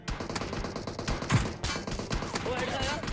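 Gunfire in the video game PUBG, a rapid series of sharp shots mixed with game sounds while someone speaks over it.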